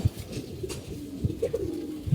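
A tournament racing pigeon coos up close in low, throaty bursts, a few soft calls repeating in a loose rhythm.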